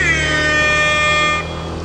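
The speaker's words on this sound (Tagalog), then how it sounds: "pag pumapasok dito sa Kibyang, ang marker ng mga nagmomotor dito is bumubusina." Motorcycle horns honk while riders enter Kibyang Tunnel, a loud sustained reedy blare with several overlapping tones that cuts off sharply, leaving a lower echoing tunnel hum.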